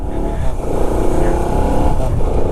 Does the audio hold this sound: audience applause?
no